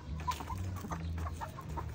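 Chickens in a henhouse cluck softly and continuously at moderate distance, with low murmuring calls over quiet background noise.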